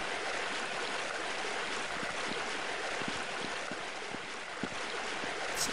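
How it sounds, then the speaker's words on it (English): Waterfall on the Vault 105 video game map, a constant rushing wash of falling water, dense and unbroken for several seconds. "It's a fairly nice waterfall as well."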